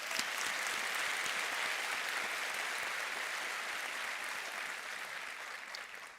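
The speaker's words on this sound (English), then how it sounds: "Professor Farisani deserves another round of applause." A large audience at a university graduation ceremony applauds steadily, a broad wash of clapping heard from a little distance that holds even for several seconds before slowly tapering.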